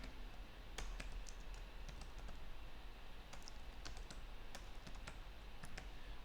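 Keys on a computer keyboard tapped in quick irregular bursts, faint and close, over a low steady room hiss with no talking.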